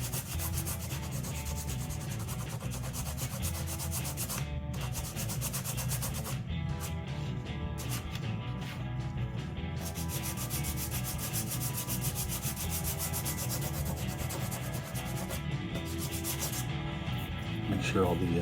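Steady hand sanding of a wooden sign to lift off burn marks, a continuous light rubbing scrape with even back-and-forth strokes, close and alone.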